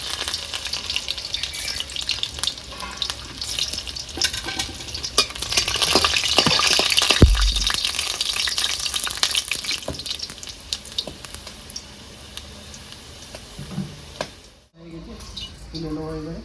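Chopped onion and garlic fry in a pan for a rustic pennywort mash, with a continuous crackling sizzle, occasional stirring clatter, a sharp knock midway and a brief drop near the end.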